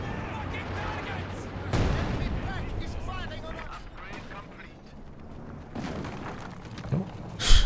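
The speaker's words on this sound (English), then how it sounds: "Go for Zis barrage." A ZiS gun artillery barrage in a video game lands as a few heavy booms and rumbling impacts spread over several seconds, mixed with mechanical clanks under ongoing talk.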